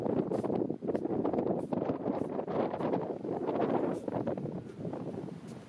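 Strong wind gusting across an Iceland hillside, a constant loud rumbling buffet on the microphone with steady roar and occasional surges throughout.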